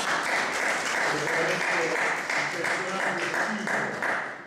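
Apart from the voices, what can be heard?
audience applause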